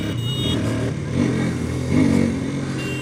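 A KTM RC 200 motorcycle accelerates in second gear, its engine a steady, fairly loud drone that swells twice as the revs climb, with no talk over it.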